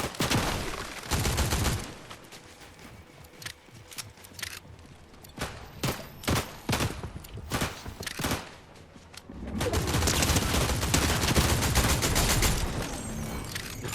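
Bursts of assault rifle fire in a video game, loud rapid volleys at the start and near the end with scattered single shots between, no talking.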